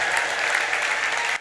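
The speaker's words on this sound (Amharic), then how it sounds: "እንደገና አጨብጭቡ ለጌታ" A church congregation claps together in steady, dense applause, loud and close, for about a second and a half before it cuts off abruptly.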